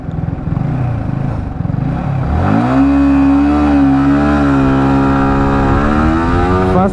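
Yamaha R15 V4 motorcycle accelerating hard through the gears with a quick shifter, loud and close, its rising engine pitch climbing in clean steps with almost no pause between shifts, a continuous high-revving drone.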